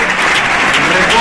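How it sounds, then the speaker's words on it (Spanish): Audience applause at an Asturian handball gala, greeting a sportsmanship award winner: a steady, dense wash of clapping from a full hall, loud and continuous throughout, with no break or clear voice standing out. "Un aplauso para él."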